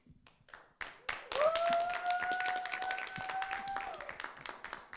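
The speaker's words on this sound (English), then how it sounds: "please keep the applause going for Sarah." A comedy club audience claps after a stand-up comic's set, sparse taps building into moderate applause with a whoop, while a voice talks over it.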